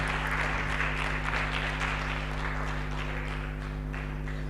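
Applause from an audience at a public leaders' alumni network gathering: a steady, even wash of clapping that holds for several seconds over a constant low electrical hum.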